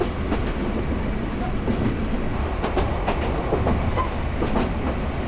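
The Hawr Express night train rolls along the rails with a steady, loud rumble and rhythmic clickety-clack of wheels over joints, continuous throughout with no voices.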